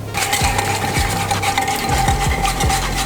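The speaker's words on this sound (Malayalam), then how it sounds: "ഇനി നന്നായിട്ടത് നമ്മുടെ ഓയിലും സോസും ഒക്കെ കൂടി നന്നായിട്ട് ബ്ലെൻഡായി" A spoon stirs oil and sauce together in a bowl for a roast chicken marinade, with a repeated close scraping and clinking rhythm, about six strokes, over a constant low hum.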